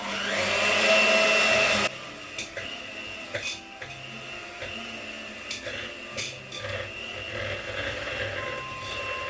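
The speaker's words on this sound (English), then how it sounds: "we're going to whisk this all together till nice and creamy" Electric whisk beating peanut butter and white chocolate blondie batter, a loud steady motor whir for about two seconds, then quieter clinks and mechanical handling noises follow.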